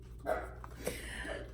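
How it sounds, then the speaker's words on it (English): A dog barks a few times, the short muffled barks sounding indoors and somewhat distant with a quiet background hum. "He's barking again."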